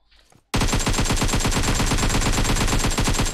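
Sustained automatic gunfire from PUBG Mobile, a loud, rapid, evenly spaced burst of shots rattling continuously for about three seconds after a brief quiet start.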